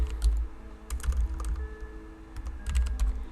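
Close computer keyboard typing while code is written, irregular bursts of crisp keystrokes with brief pauses between.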